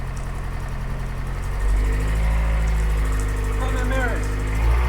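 An Austin Allegro 1500 Special idles steadily with a low mid-pitched hum, then the engine note rises and grows louder as the car pulls away in first gear, with faint background voices.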